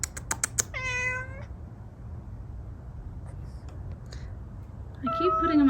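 A stray cat meows close by, with a few short yowling calls at the start and a longer rising meow at the end over quiet background hum. Scattered clicks fall in between.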